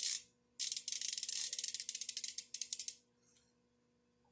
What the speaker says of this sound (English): take our favorite ratchet